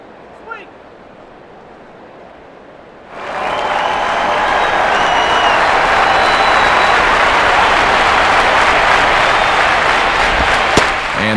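Baseball stadium crowd from the game MLB 09: The Show. A quiet stretch gives way to a loud, sustained roar and applause that stays strong to the end.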